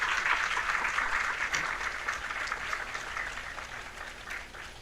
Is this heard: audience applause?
yes